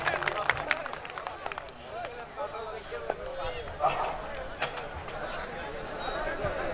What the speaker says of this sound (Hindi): एक बार बसंत थापा के नाम पर जोरदार तालियों से स्वागत कर दिया